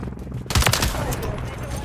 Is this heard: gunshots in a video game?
yes